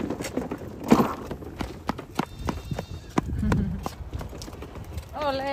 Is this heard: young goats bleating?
yes